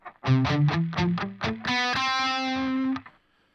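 A distorted electric instrument plays a major scale, seven quick stepwise notes rising then a long sustained top note, loud and close with no talking.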